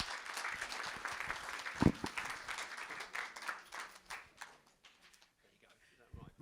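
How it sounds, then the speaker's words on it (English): Applause from the audience at the Beauty With A Purpose charity dinner hosted by Miss Africa GB, a moderate spread of clapping mixed with chatter that thins out toward the end, with a sharp thump near the middle. "Can I have another round of applause for our very important people there?"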